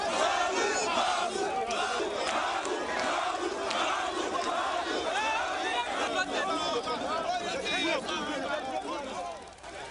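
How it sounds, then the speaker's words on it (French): A hostile crowd in Yopougon shouts and yells during a clash with UN forces, a loud, dense mass of voices crying out continuously. "une foule déterminée et visiblement hostile"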